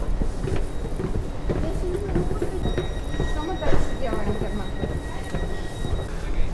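A train stands at platform one in Warsaw Central before leaving for Modlin, with a low rumbling hum, a faint high whine and scattered clanks in an echoing station while people talk nearby.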